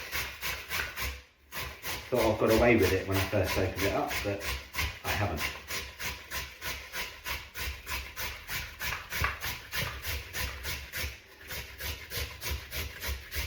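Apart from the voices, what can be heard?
grating onion and carrot into coleslaw mix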